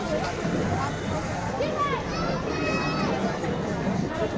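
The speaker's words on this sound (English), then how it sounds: "Quite a good crowd here today" Crowd hubbub at Blackpool Pleasure Beach amusement park, a steady murmur of many voices with children's shouts and calls rising above it, people talking nearby.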